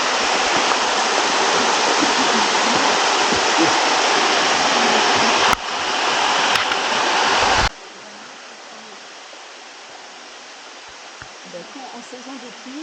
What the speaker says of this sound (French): Une autre cascade.